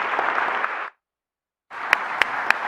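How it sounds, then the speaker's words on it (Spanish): Audience applause at a panel discussion event, a dense burst of clapping that cuts off briefly and resumes with a few sharp near claps, with no voices over it. "un fuerte aplauso"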